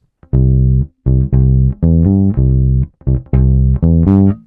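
Bass guitar plays a country-style triad bass line in the middle register, a run of short, loud, clearly separated notes with small gaps, alone and with no voice.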